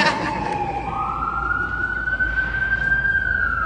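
An ambulance siren wails outside, its long rising tone sounding fairly loud and steady over a low traffic rumble.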